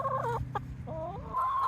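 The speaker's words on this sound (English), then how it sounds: "As you can see, I have chickens" Backyard chickens cluck in a run of short, nasal calls at close range, one bird breaking in with a sharper squawk partway through, with no talking over them.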